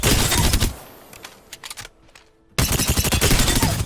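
Rapid automatic gunfire from a weapon in Apex Legends, heard as a dense burst, a short lull with scattered shots, then another sustained burst, loud and with no talking.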